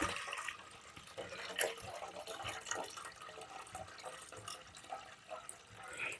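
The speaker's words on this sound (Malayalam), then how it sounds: "കുറച്ച് പച്ചവെള്ളം ഒഴിക്കുക." Plain water is poured into a container, a faint, uneven splashing and trickling that continues throughout without pause.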